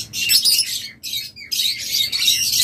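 A caged breeding pair of birds, the hen heavy with eggs, gives bright, high chirps in quick bursts, pausing briefly and then chirping on close by.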